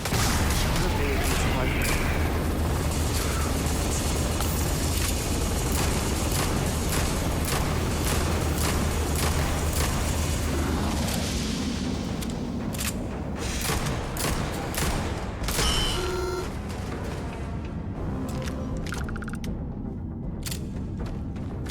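Pistol gunfire in the sci-fi video game Starfield, with shots cracking in rapid bursts over a dense, loud bed of combat booms and game effects, while a voice talks through much of it.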